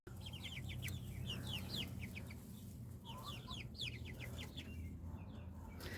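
Chickens cluck and chatter in a steady series of short calls near their coop, over a constant low background rumble, with no voices.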